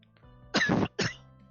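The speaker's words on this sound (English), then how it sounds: "Just still coughing." A person coughs twice in quick succession, close and fairly loud, the first cough longer and rougher than the second, with a quiet room behind.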